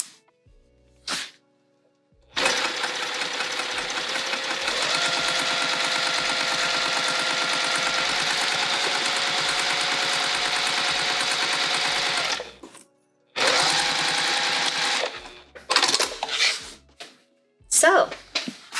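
A sewing machine stitches a tote bag in two long steady runs of fast rhythmic whirring, with brief pauses and handling noises between them for pivoting.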